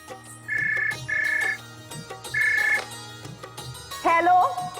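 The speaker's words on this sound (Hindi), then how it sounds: "अब फोन बजता है" A phone in a Pakistani TV drama scene rings with three short, bright electronic ringtone bursts spaced about a second apart, fairly clear above a low background hum, followed by a brief warbling tone at the end.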